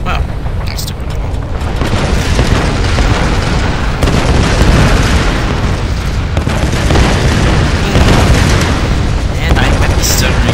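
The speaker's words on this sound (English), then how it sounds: "those explosions are dense" Dense, rumbling explosions fill a Tomb Raider fight in the geothermal caverns, with booms running almost continuously at high volume while someone talks over them.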